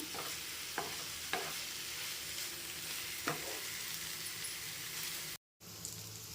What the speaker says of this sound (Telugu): 2 వైపులా పట్టించుకునేలా తిరగా మరగా వేసుకుంటూ వేపుకోవాలండి దీన్ని.